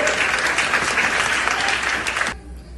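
A church congregation claps loudly and steadily for a couple of seconds, then the applause cuts off abruptly.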